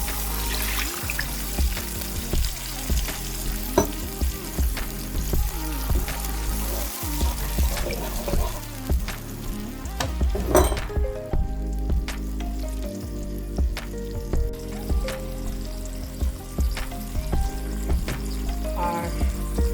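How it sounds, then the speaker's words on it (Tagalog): Sauce mixture poured into a pan of frying chicken, a loud hissing sizzle and bubbling with some liquid splashing and clattering, continuous and close throughout. "we're gonna add in our sauce mixture"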